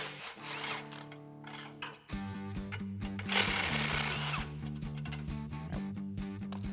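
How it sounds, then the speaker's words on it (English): A tool with a 13mm socket on an extension rattles and whirs as it backs out exhaust hanger bolts above the rear sway bar of a 2018-2023 Mustang GT, loud and close, in bursts that pause briefly partway through. "So grab an extension and a 13mm socket. I'm gonna go right over the rear sway bar and get these 2 bolts off."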